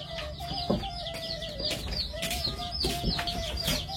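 Chickens cluck and call around a rural yard, with repeated short clucks and a rooster-like cry over a low background of farm ambience, fairly close and moderate in level, with no one talking.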